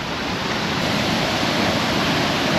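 Steady, loud roar of rushing water filling the whole clip, like waves surging and crashing at the base of a waterfall, with no voices.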